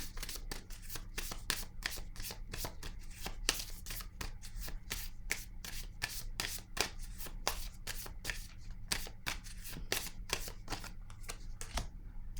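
Tarot cards are shuffled and handled in a steady stream of crisp, rapid flicks and slaps, close and fairly quiet, with a constant low hum beneath and no talking.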